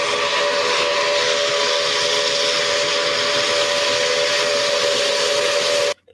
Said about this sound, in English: the new whistle being an original GS4 whistle versus the old whistle being a Northern Pacific whistle